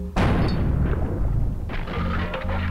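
A single loud shotgun blast from the Buckshot Roulette video game, a sudden booming report that rings out and decays into low rumbling game ambience.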